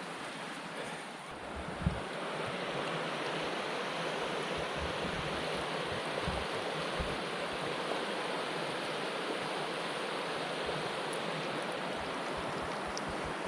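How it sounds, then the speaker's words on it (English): The Lerderderg River in Victoria, Australia, flowing well, heard as a steady, broad rush of moving water that holds evenly throughout, with some wind noise on the microphone and no talking. "There's the river."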